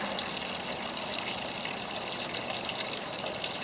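A JobSmart 20-gallon parts washer pump runs steadily, circulating solvent with a constant gushing, splashing wash of liquid and no pauses.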